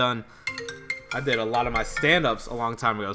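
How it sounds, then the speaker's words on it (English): A phone ringtone chimes in short, steady melodic tones for about a second, then stops as a person begins talking close to the microphone. "Sorry for that phone call."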